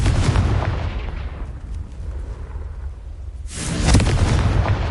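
A Confringo blasting spell explodes in Hogwarts Legacy, with a loud booming blast, a rumbling decay, and then a second heavy burst near the end.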